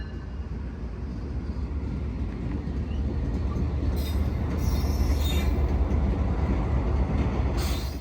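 Norfolk Southern freight train with its locomotive rolling along the rails near a grade crossing, a steady broad rumble of wheels and engine that grows slightly louder, with faint high wheel squeal, no voices.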